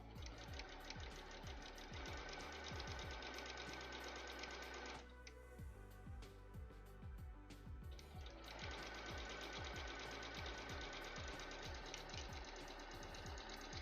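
A sewing machine stitches a cosplay costume in fast, steady mechanical bursts with a brief pause in the middle before the rapid clatter resumes, close and loud.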